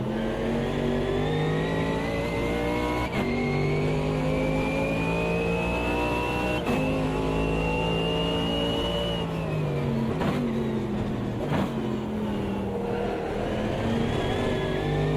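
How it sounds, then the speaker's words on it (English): Race car engine in the Bathurst circuit VR racing game screams at high revs, with sharp downshift blips dropping the pitch several times in a continuous, loud run with no talk. "I do love the sound of those downshifts."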